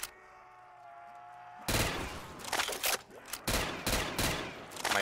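Video game gunfire, loud, rapid bursts that break in abruptly after a quiet humming lull, then continue in several close, rattling volleys with brief gaps between them.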